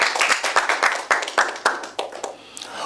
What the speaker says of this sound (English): CRU, 16 points. A round of applause.